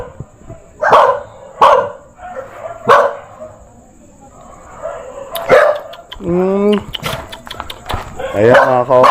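Loose dogs at a maximum security penal prison colony farm in Sablayan bark in sharp repeated bursts nearby, with whimpering yelps toward the end, mixed with people talking.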